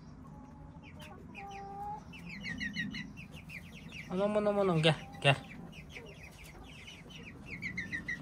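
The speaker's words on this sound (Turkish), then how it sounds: "Bakın horoz bu arkadaşlar." A rooster crows loudly near the middle, with hens clucking and chirping around it and a person briefly speaking.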